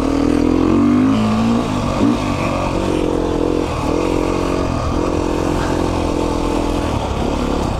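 A Yamaha YZ 65 dirt bike engine runs steadily and close by, holding a buzzy two-stroke drone with small shifts in revs throughout.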